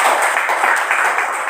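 A classroom of students applauding a group, a dense, continuous patter of many hands clapping at once, near and fairly loud throughout.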